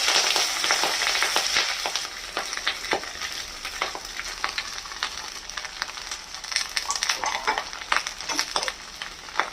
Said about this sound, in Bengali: সর্ষের তেলে এটা করব, সর্ষের তেলও দিয়ে দিয়েছি। এইখানে পেঁয়াজকলি আর বেগুন এগুলো দিয়ে দেবো।